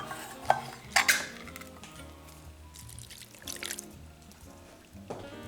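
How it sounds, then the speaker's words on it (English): A can of fire roasted diced tomatoes with green chilies going into a slow cooker for chipotle chicken soup, with clanks of metal and can against the pot, a soft wet pour and splatter, and a final knock. "now we're gonna put in 1 can of fire roasted diced tomatoes with green chilies"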